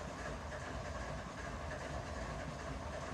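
Train running in the video game Run 8 Train Simulator, a steady, even rumbling drone of engine and rolling noise throughout with no talking.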